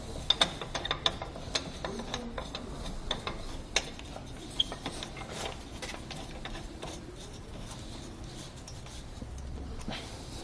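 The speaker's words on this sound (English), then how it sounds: "You want to make sure you tighten it all the way down." A hand knob on a Hollywood Racks Destination four-bike hitch rack is cranked tight, giving a quiet run of small ratcheting clicks and mechanical ticks, close and fairly soft.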